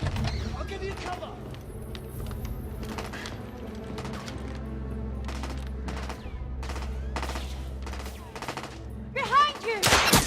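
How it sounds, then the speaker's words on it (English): Sustained gunfire from a firefight in The Order: 1886, dense bursts of shots over a loud rumbling backdrop, building to a sharper, louder volley at the end, with shouted voices in the mix. "I'm taking suppressive fire!"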